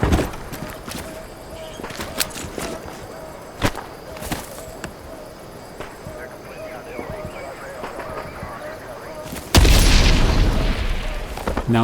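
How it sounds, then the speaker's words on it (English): In the Vietnam war shooter Hell Let Loose: Vietnam, a thrown grenade detonates with a sudden loud blast near the end, after scattered thumps and footsteps, while a voice talks over the gameplay. "Grenades are a powerful explosive item."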